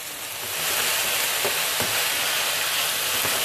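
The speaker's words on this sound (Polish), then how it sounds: "Dobra, podsmażę jeszcze chwilę." Groats being pan-fried Thai style, giving a steady, close sizzle and hiss with a few faint stirring clicks and no talking.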